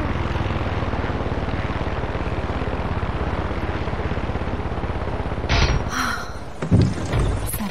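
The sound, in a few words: helicopter flying and landing in video game Far Cry 6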